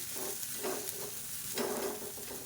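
Steamed rice puttu stirred into sautéed onions in a hot pan, a steady frying sizzle with soft scraping strokes of a spoon recurring every half second or so, close and continuous, no talking.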